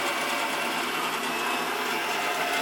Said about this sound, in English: We're trying out a little circulation heater.